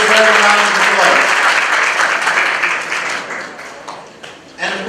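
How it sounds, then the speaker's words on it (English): Audience applause at a charity dinner in Brooklyn, a dense roomful of clapping that starts loud and close, then thins and fades with a brief burst near the end, with some voices mixed in. "They definitely deserve a round of applause."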